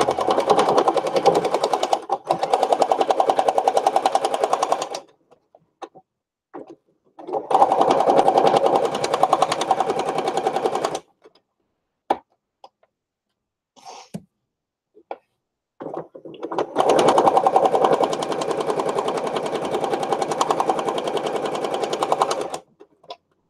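A sewing machine stitches a stickpin lace book in several long, fast, evenly whirring bursts separated by quiet pauses, with a few soft clicks and handling taps in between.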